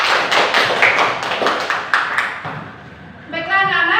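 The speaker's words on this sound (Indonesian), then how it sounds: "Tepuk tangan untuk kelompok 1." A classroom of students claps for group 1 after its discussion presentation, a few seconds of fairly close, uneven clapping that fades before a teacher starts speaking.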